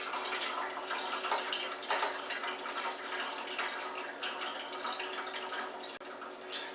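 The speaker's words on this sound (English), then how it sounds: "Yes, there is indeed quite a bit of pumpkin remains being strained out." Dark pumpkin wine poured from a pot through a strainer, a steady splashing, trickling stream of liquid close by with small drips, continuous throughout and with no talking.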